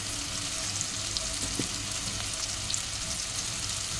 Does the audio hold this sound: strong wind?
no